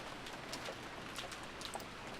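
Steady rain in the Umineko When They Cry visual novel, a soft, even hiss of falling drops held at a low, distant level throughout with no talking.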